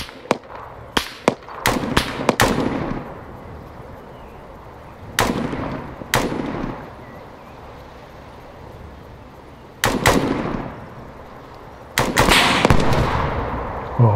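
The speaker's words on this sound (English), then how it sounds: "Under fire! Machine gun." Machine gun fire in the Arma 3 video game, with sharp gunshot bursts rattling out in quick clusters and then single cracks separated by pauses, loud and close, each followed by a trailing echo.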